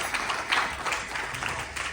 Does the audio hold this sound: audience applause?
yes